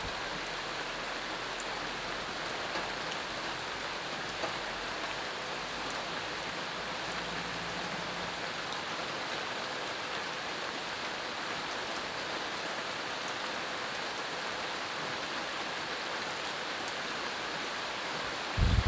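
Steady, relaxing rainfall hisses evenly throughout, a soft, constant wash of drops with no voices, calm and unchanging until a brief bump at the very end.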